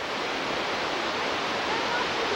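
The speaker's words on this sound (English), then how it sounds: "there's kind of a waterfall going flowing down" A waterfall flows down through snowy wilderness, a steady, even rush of water heard at a moderate distance, with no voices.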